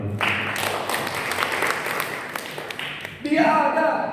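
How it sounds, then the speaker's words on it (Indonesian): Congregation applause during a church service, a broad sustained wash of clapping that swells again near the end with voices rising over it. "Tepuk tangan."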